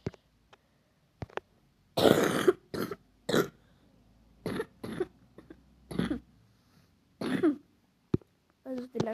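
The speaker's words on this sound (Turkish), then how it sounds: "Çok garip öksürüyorum biliyorum" Several harsh, close coughs and throat-clearing bursts from an ill person come in irregular fits separated by short silences.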